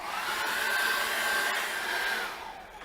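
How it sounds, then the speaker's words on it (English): A hair dryer drying acrylic paint blows steadily at close range, a continuous airy whoosh with a faint whine, tapering off slightly near the end. "I'm just going to dry that off very quickly with a hairdryer."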